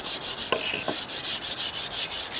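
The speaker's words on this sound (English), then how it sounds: "this is a good stiff brush so I can get any sort of bits of dust and muck off" Stiff brush scrubbing dust and muck off cabin base wood in quick, rhythmic bristly strokes, close and fairly loud, with a couple of faint knocks early on.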